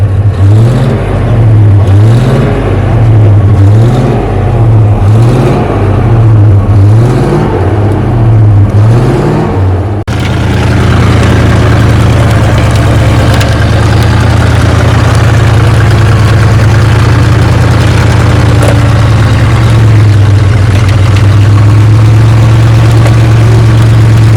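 A vehicle stuck in mud revs its engine hard while a steel cable tied to a tree pulls it free: loud rhythmic rising-and-falling revs for ten seconds, then a sustained heavy roar.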